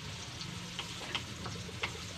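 Pakbet ingredients sauté in a hot pan with a steady, continuous sizzle and occasional clicks from a utensil stirring, close and moderately quiet, with no voices.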